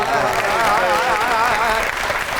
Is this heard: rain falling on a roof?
no